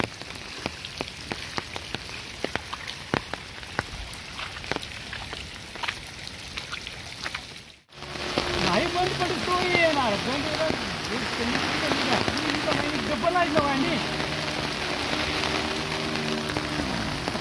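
Floodwater rushes across a road at Kirve-Longhe during the 2024 Kolhapur flood: a steady, loud hiss of flowing water that drops out for a moment, then returns fuller and heavier.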